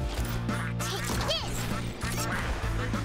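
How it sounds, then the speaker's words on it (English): Ducks quack repeatedly inside the busy, loud background music of the fighting video game Nickelodeon All-Star Brawl, the calls layered over a steady musical beat. "Do you hear the ducks in the background?"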